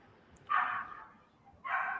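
Two sharp dog barks, the second about a second after the first, fairly close and loud against a quiet background.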